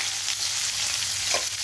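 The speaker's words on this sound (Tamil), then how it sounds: "கொஞ்சமாக பெருங்காயம், கத்திரிக்காய் போட்டுடலாம்." Eggplant pieces with a pinch of asafoetida frying in a pan, giving a steady, close hiss of sizzling oil with a faint stir or scrape near the end and no talking.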